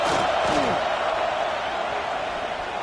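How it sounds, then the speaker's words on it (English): A home crowd roars at a college football game in a stadium, a loud, sustained wash of distant cheering and yelling that holds steady throughout. "Man, this crowd really affecting the football game."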